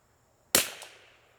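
A single rifle shot fired at a range while sighting in a Chinese scope, one sharp loud crack followed by a short fading echo, alone in quiet surroundings.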